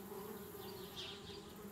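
Bees buzz around a tree house in the video game Anna's Quest, a soft, continuous insect drone that hums faintly and steadily with no talking.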